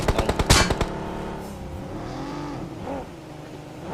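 A vehicle in a battle royale game sounds with a burst of rapid gunfire at first, then its engine drones and swoops in pitch as it slows and parks, loud at first and easing off.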